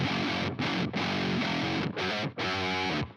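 Heavy, low-tuned distorted electric guitar chugs through a tight metal riff through an amp sim, with brief palm-muted stops between phrases; loud and dense, no voices.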